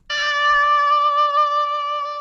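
Pitch-tuned version of Mario's falling voice sound from Mario 64, held as a steady sustained tone with clear harmonics for about two seconds, loud and alone after a sharp onset.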